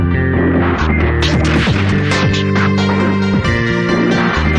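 A Husqvarna K970 chain diamond chainsaw cutting through reinforced concrete, a loud, continuous engine drone with shifting grinding pitch as the chain bites, close and alone without talk.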